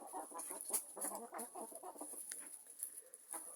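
Several Bielefelder hens cluck softly and continuously, a low murmur of short, overlapping calls with no voices.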